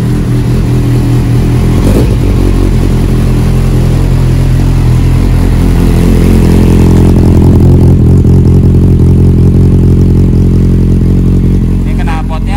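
A Kawasaki Z800 four-cylinder 800 cc motorcycle with a Scorpio exhaust runs loud and close, with a deep steady idle and a brief blip of revs, throbbing continuously under occasional talk.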